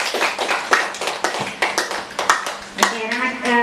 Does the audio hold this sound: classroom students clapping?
yes